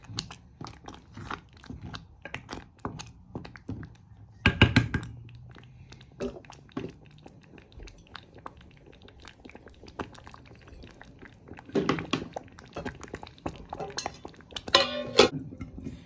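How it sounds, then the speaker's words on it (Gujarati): A spoon clinks and scrapes against a pot while farali khichdi is stirred, with a few sharper metallic knocks standing out from the quieter scraping and faint background sounds. "આવી રીતે હલાવી લેવાનું."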